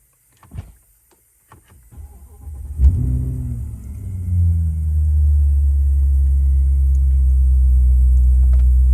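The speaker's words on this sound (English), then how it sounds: "So I'm going to start the engine now." A BMW E65 745i fitted with an exhaust valve kit cranks over after a few clicks and knocks, then fires into a deep, loud rumbling idle that settles and holds steady close by.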